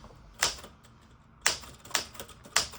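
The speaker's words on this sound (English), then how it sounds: "I'm just typing" Keys strike on a vintage 1981 Smith Corona Galaxie typewriter with a worn-out ribbon, a handful of sharp, separate clacks spaced irregularly, close up with quiet gaps between them.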